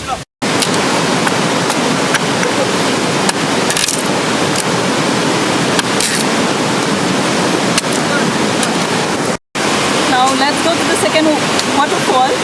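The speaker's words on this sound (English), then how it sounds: "I thought that this is the second waterfall, but then this is the same waterfall" Malanzai waterfall in Kangpokpi, Manipur roars as a constant, loud, broadband rush of falling water, nearby and unbroken apart from a couple of brief cutouts.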